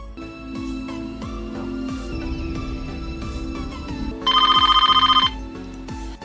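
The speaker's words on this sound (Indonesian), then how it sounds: "terbangunkan oleh telepon dari seseorang" A telephone bell rings loudly in a horror film, a single burst of rapid metallic ringing lasting about a second over a droning, tense musical underscore.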